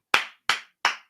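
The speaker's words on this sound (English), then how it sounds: "I don't know why you're clapping" Three sharp hand claps in steady succession, evenly spaced and close, each with a short fading tail, alone without any talk.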